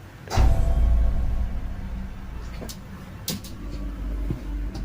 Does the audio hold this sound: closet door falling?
yes